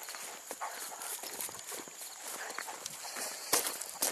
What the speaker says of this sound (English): so passing the donkeys